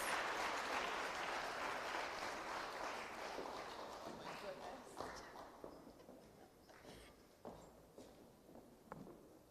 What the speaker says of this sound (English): Please join me in welcoming her with a resounding round